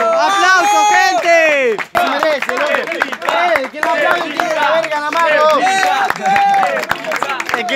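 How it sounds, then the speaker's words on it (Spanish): Audience at the final of a freestyle rap battle erupts in loud, sustained cheering and clapping, dense crowd noise with sharp claps and shouting voices layered throughout. "¡Aplausos, gente!"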